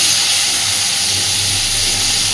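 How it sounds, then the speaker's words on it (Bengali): Pointed gourd (potol) frying in oil gives a loud, dense, unbroken hiss at close range for the whole stretch, with a faint low rumble beneath it and no voices. "সুন্দর করে পটলগুলোকে আমি ভেজে নেব"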